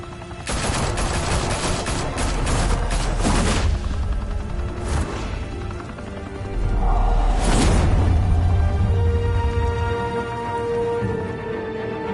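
Gunfire in The Batman Telltale Series, loud overlapping bursts of automatic shots in rapid volleys, with heavy booms and sweeping whooshes between them, no voices.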